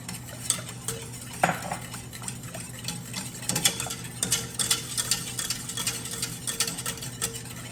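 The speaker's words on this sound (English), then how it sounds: "as soon as you start adding the milk and you're whisking at the same time, it's gonna look nice and thick" A whisk scrapes and clinks steadily in a pot as milk is worked into a flour-and-butter roux for potato soup, with quick irregular metallic taps and stirring swishes over a low background hum.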